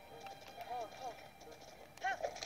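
Horse hooves gallop in the video game Zelda: Breath of the Wild, a quick clip-clop rhythm running under a man's speech, with a brief whinny-like tone near the end.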